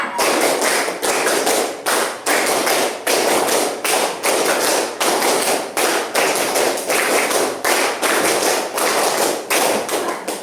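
A classroom of pupils claps in unison, a steady run of sharp, loud claps in even rhythm, with groups of five beats repeating in a fixed pattern.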